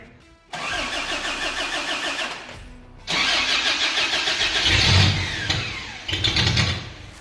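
A pickup truck engine with faulty wiring, running on starting spray, cranks with a rapid whirring starter, pauses, then cranks again and catches, sputtering and revving unevenly as it comes to life.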